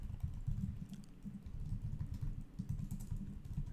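Rapid typing on a computer keyboard during a coding session, a quick uneven patter of soft key taps close by, steady throughout with no talking.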